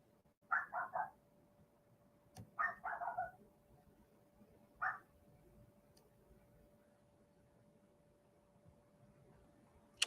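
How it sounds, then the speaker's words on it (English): Several dogs bark in short bursts a little way off, with clusters of yaps near the start, a few seconds in and again around the middle, then quiet room tone with a steady faint hum. "You can hear my dogs barking in the background."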